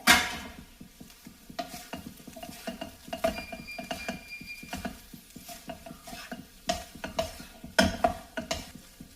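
A spoon scrapes and clinks against a pan while boiled egg fried rice with yolk mixed in is stirred and heated, with light sizzling under irregular, repeated metallic taps.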